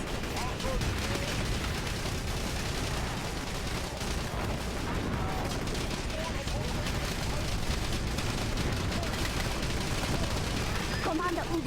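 Tank gunfire in the GameCube game Battalion Wars: continuous heavy shelling and explosions in a busy, loud battlefield, with talk layered over the din throughout.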